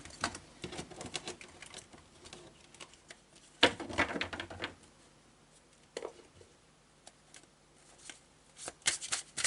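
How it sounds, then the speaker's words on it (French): Marseille tarot cards shuffled by hand up close, with bursts of crisp riffling and flicking separated by short pauses and softer handling sounds. "je vais demander quelques cartes au Marseille hein, pour illustrer peut-être différemment ce tirage"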